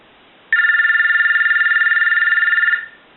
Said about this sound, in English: we'll go ahead and ring the unit with the analyzer.